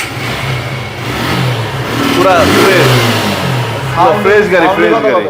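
A used motorcycle with 16,000 km on it idles and revs up close. Someone talks over the engine noise.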